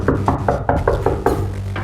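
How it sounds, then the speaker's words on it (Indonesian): Knocking on a wooden door as an audiobook sound effect, about nine evenly spaced raps in a steady rhythm over a low continuous hum, fairly close and loud. "ketukan pintu itu terulang beberapa kali"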